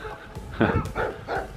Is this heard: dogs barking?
yes